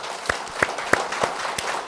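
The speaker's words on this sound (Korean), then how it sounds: "자, 박수 한번 쳐주시고, 네." An audience at a Buddhist lecture on business ethics claps, sparse, uneven hand claps standing out over a soft patter of applause, moderately quiet and without speech.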